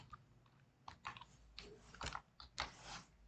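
Keystrokes on a computer keyboard while typing Python code, an irregular run of close, crisp clicks in short bursts over a low background hum.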